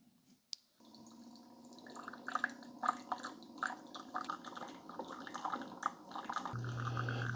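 A Keurig K-Slim coffee maker runs a rinse cycle, a motor hum joined by dripping and trickling water into a container, growing steadier and louder toward the end.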